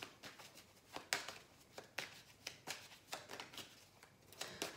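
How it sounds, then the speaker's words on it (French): Tarot cards shuffled and drawn from a deck during a reading, giving a run of quick papery riffles and flicks, soft and close, with brief sharper snaps at irregular intervals. "Donc je vais retirer une carte"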